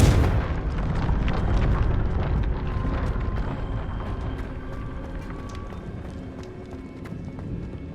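A Confringo blasting spell explodes in Hogwarts Legacy, a loud, rumbling blast that hits at the start and then trails off into a long, fading roar, with no talk over it.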